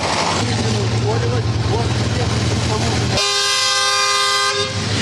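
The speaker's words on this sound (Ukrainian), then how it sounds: "Ось цей гудок означає, що пінну атаку розпочинають." A loud, sustained horn blast sounds as the signal to begin the foam attack during a fire drill at an oil depot, cutting in after a stretch of engine noise and voices and holding steady to the end.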